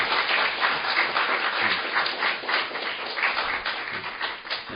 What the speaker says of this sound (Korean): 박수는 끝까지 쳐주시면 좋겠습니다